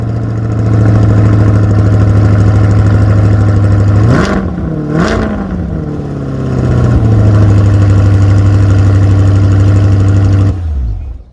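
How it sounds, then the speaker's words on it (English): A 2021 C8 Corvette 2LT with the Z51 package fires up from cold, its engine holding a loud, steady low idle before a sharp double rev around the midpoint, then settling back to a high idle until it cuts off near the end. "Let's do a cold start on this one."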